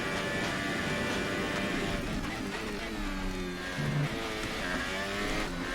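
A Formula 1 race car engine in the F1 2018 video game at the France circuit revs hard and high, whining with rising and falling pitch sweeps throughout, loud and continuous with no talk over it.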